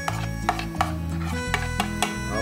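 A knife chops onion on a board while sisig sardines are prepared, roughly eight evenly spaced sharp taps, close and moderately loud over a steady musical background, with no voices.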